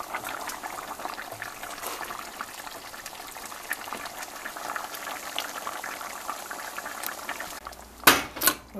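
Baby lima beans simmer in a pot on the stove, giving a soft, continuous bubbling with small pops, fairly quiet and close, ending in a couple of brief clinks.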